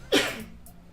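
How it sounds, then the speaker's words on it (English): One short, sharp sneeze bursts out close to the microphone, then fades into quiet with faint background sounds. "you're making me sneeze."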